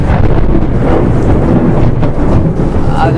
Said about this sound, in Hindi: पूरा बारिश हो रहा है, बादल गरज रहे हैं